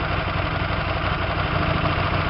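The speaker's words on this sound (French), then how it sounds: "Le régime moteur a pris un petit peu plus de régime." Hyosung 125 GTR motorcycle engine idling steadily while its carburetor mixture screw is adjusted, a close, even mechanical hum with constant vibration and no talk.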